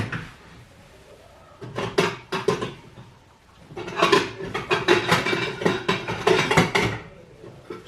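A large 2-litre saucepan handled near a camping stove, with clustered metallic clunks and scrapes: a brief burst early on, then a longer, busier run of knocks and rattles, close and moderately loud, with no talk.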